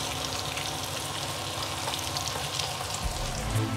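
Breaded schnitzel frying in a pan gives a steady, close sizzle and crackle that runs unbroken throughout, with no voices.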